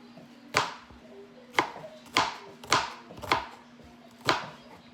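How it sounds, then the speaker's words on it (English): A knife chopping onions on a cutting board for a meat sauce: six sharp, evenly spaced chops, close and distinct, over a faint low hum, with no talk. "I'm cutting these onions"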